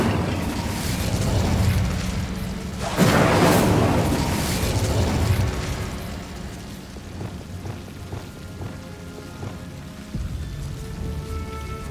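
Hogwarts Legacy spells fire off in booming magical blasts, one strong burst followed by crackling debris and a fading rumble.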